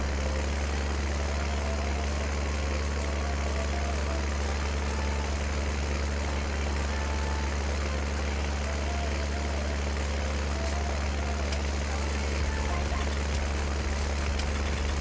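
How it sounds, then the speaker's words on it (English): An old tractor in Farming Simulator 19 drones with a steady, loud low engine rumble and idle-like hum that stays constant from start to finish, with no clear gear shifts. "Like a lot of the modern tractors just have CVT gearboxes, so you don't hear the shifts."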